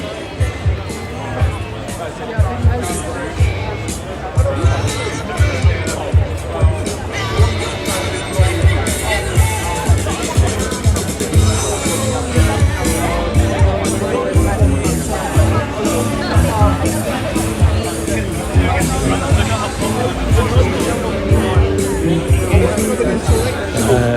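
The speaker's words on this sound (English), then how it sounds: "it looks to be a crowd gathering" Crowd at a protest outside the BBC in London gives off a dense hubbub of overlapping voices and chatter, with nearby talking and sharp bursts of noise throughout.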